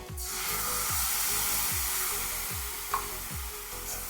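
A mixed spice paste with ginger, turmeric and salt frying in a pan for Bengali potol with mung dal, a steady hissing sizzle with a few soft stirring knocks, fairly quiet and alone.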